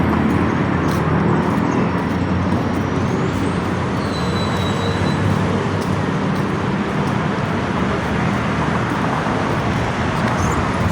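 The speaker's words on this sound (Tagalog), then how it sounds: "May sasakyan, no?" Steady, loud road traffic near Nonthaburi market in Thailand, with a continuous roar of cars and heavier vehicles passing close by and faint higher squeals over the rumble.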